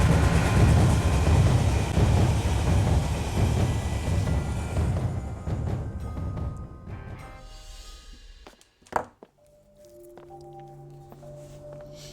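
A train in the Alice Madness Returns video game rumbles loudly and close, then fades away over several seconds, followed by a sharp clank and quieter tonal game sounds.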